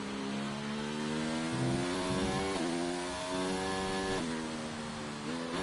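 Mercedes racing car engine heard onboard in a racing game at Suzuka testing, a loud steady high-pitched whine that rises through revs with brief dips at gear changes, continuous and alone.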